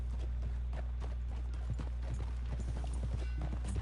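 Rapid rhythmic hoofbeats of a galloping horse in Red Dead Redemption 2, steady and close, over a low constant rumble.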